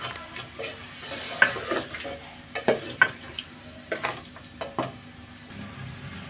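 Mutton for nihari frying with ginger garlic paste in a pan, giving a steady loud sizzle broken by repeated scraping and clattering stirs of a spoon against the pot, with no voices.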